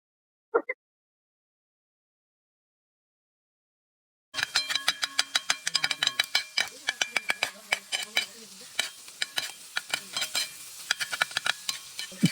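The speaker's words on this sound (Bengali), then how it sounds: "এখানে রসুনের পেস্ট দিয়ে দিলাম। নেড়ে দেবো এইভাবে হালকা করে।" Garlic paste fried in a pan and stirred gently, a steady sizzle with rhythmic scraping strokes starting after a few seconds of near silence, close and moderately loud.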